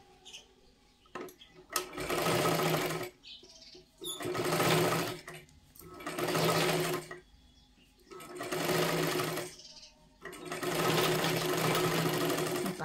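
Sewing machine running a second line of stitching along a size 42 katori blouse, in five steady bursts of a few seconds each separated by short pauses, close and fairly loud.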